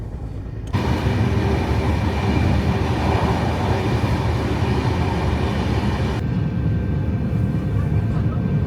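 A passing train discharging water, heard as a steady loud rush of rumbling wheels and hissing spray that starts abruptly and continues throughout with no pause.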